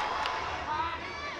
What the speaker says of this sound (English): Oohs and ahs from the crowd here in Bangkok.